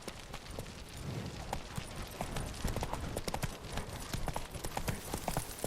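Horse hooves galloping in the video game The Witcher 3: Wild Hunt, a rapid, steady clip-clop of hoofbeats on hard ground, close and prominent throughout with no talking.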